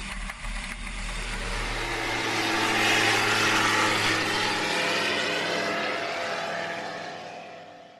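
An aircraft engine droning in flight, a loud continuous hum that swells gently toward the middle and eases off, heard alone without talk.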